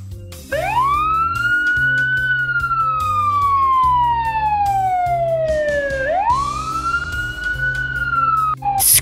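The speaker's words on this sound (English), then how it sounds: "Fire engine." A loud fire engine siren wails, sweeping up and down in long, slow cycles, close by, with a low rumbling engine underneath.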